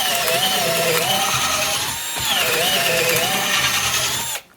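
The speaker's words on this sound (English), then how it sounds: "It only has one type of a torque, but it's pretty fast and it drills pretty fast." An ALTOCRAFT 20V cordless drill runs fast and close, a loud, high motor whine that dips briefly mid-way, then resumes before stopping abruptly at the end.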